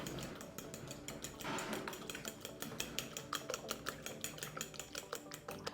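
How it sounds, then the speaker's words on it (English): Eggs are stirred into banana bread batter, heard as a spoon clinking and scraping against a bowl in quick, rhythmic strokes, faint and close with no talking. "Let's add our eggs in. Just want to give that a stir."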